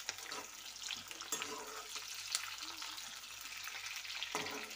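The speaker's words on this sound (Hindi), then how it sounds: "इधर हम डाल देंगे थोड़ी हरी मिर्च" Chopped green chillies frying in oil in a kadhai for kadhai paneer, giving a continuous crackling sizzle with occasional louder pops and spatters throughout.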